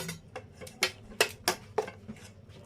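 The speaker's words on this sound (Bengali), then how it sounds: "সবটা কিন্তু মিশিয়ে দেবো আমি" Grated carrot stirred into pitha batter in a bowl, a spoon striking the bowl in a run of sharp, irregular clinks and taps, close and clear with no talk.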